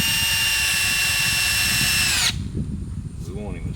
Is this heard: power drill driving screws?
yes